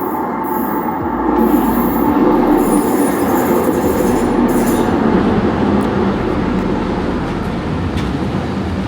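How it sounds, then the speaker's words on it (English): Steady rumble and rattle of a commuter train riding toward Coquitlam Centre, with wheel squeal and clatter running continuously at close range throughout, no voices. "I hopped on the train going to Coquitlam Center."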